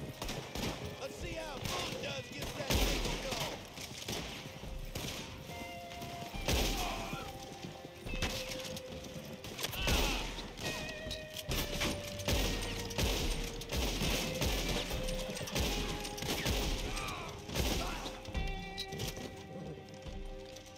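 Gunfire in the online Western game Red Dead Redemption 2 Online: dense, crackling bursts of shots and impacts over several seconds, mixed with hoofbeats, mechanical clatter and steady background music at an even loudness.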